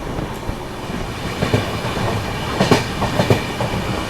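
A passenger train on the Ahmedabad to Kanpur Central route runs on rails past Shamlaji Road station, heard from onboard as a loud continuous rumble with irregular clickety-clack wheel knocks over the joints, and no voices.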